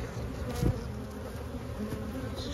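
Honeybees buzz around open hives as they are split during a solar eclipse, a steady close drone with a few louder passes of single bees near the microphone.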